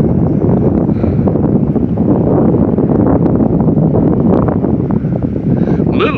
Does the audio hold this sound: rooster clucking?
no